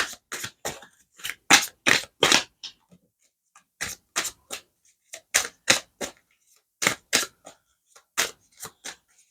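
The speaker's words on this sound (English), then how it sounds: "So as I'm shuffling and I see this card" Tarot cards are shuffled close up in quick bursts of crisp riffling snaps, grouped in short runs separated by brief pauses, with no talking.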